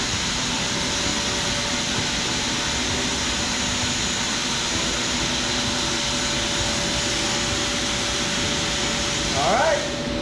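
A vacuum cleaner running steadily on a model train layout's mountain scenery, a loud constant whine and roar that continues throughout.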